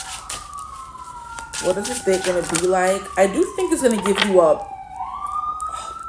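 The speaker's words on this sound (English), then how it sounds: "another freaking siren." A siren wails from outside, its pitch sliding steadily downward and then rising again as it passes, while a person talks loudly close by over it.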